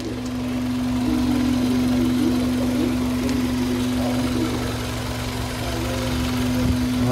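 A car engine idles steadily with the hood open at a used-car market in Osh, a smooth continuous hum with a strong low drone, close and alone without talk.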